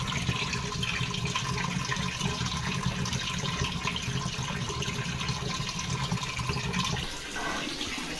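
Water gushes steadily from a geyser tap, a loud continuous splashing rush that holds for about seven seconds before easing slightly toward the end.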